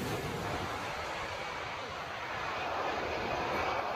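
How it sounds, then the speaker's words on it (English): A Spitfire propeller aircraft's piston engine roars steadily, a continuous broadband drone heard at moderate distance with no clear rise or fade. "I think that was a Spitfire"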